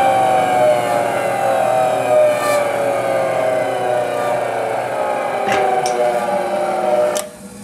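IEC HN-SII bench-top centrifuge spinning at full speed, a steady loud whine with slowly shifting tones that gradually eases off, then a couple of clicks and a sudden drop as it winds down.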